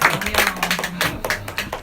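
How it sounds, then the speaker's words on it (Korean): A room of young people at a lecture breaks into scattered applause, uneven claps of moderate loudness running through the moment with a voice faintly underneath. "박수"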